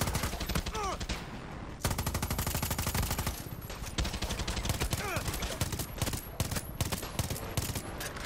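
Rapid bursts of automatic gunfire and single shots in a Far Cry 6 firefight, loud and near, rattling almost continuously with brief gaps and overlapping volleys.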